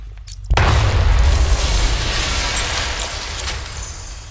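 A detonation in Batman: Arkham Knight sets off a sudden deep boom after a brief quiet lead-in, then a loud, rolling explosive rumble that stays heavy and slowly settles over several seconds.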